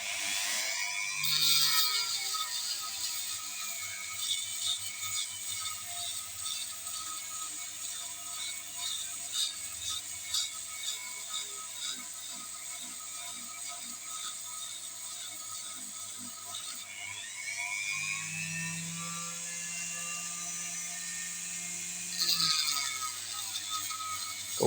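High-pitched whine of a small rotary sanding tool grinding the intake and exhaust ports of a metal cylinder head, steady with brief pitch dips as it bears down and lifts off.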